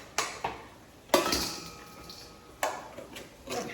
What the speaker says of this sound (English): They're kind of stuck to the pan. I'm just going to scrape it out.